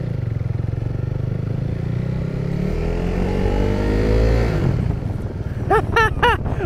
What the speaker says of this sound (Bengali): অনেকদিন পরে বাইক টান দিলাম ভাই